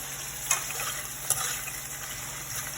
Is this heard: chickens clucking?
no